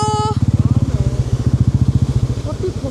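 A motorcycle on the off-road route from Kathmandu to Manang throbs in a fast, even engine pulse up close, jolting over a rough, wet track at dusk, with a voice at the very start.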